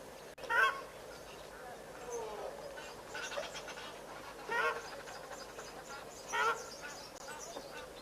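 Egyptian geese honk in the distance at a waterhole, several harsh calls in scattered bursts over an outdoor background with faint talk.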